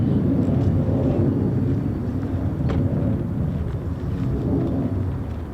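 A distant F-35 fighter jet at an RAF base gives off a steady, loud, low roar that fills the whole stretch without a break and without any voices.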